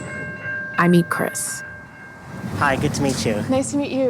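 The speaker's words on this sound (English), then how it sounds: "The train passes." A train passes a level crossing where traffic has been held up a long time, its horn and rolling rail noise running steadily behind a brief greeting exchanged between two people nearby.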